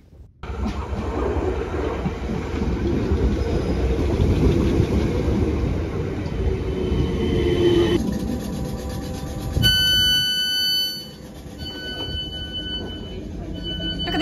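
A train rumbles steadily with low mechanical noise and rattling, then high tonal whines and squeals appear in the last few seconds, continuous and fairly loud.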